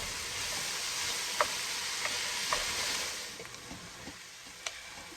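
Carrots and onions sauteing in butter in a pan for chicken and dumplings, a steady close sizzle and hiss with a few soft clicks of stirring, and no talking.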